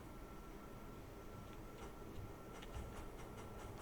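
Trains run in the video game Factorio 0.17 with a faint, steady rumble and a soft rolling clatter that picks up slightly toward the end, with no talk.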